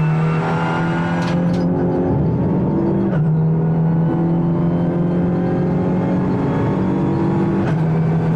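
A small 1300cc race car engine at full throttle in a racing video game drones loud and steady along a long straight, its pitch holding and stepping slightly as it pulls, with faint brief clicks over the top.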